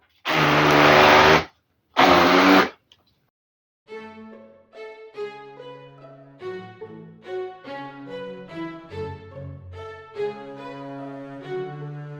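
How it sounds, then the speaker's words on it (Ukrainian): A blender roars loudly in two short bursts with a brief pause between them, mixing cheesecake batter. After a silence, soft instrumental music plays. "І все це ретельно-ретельно перебиваємо блендером."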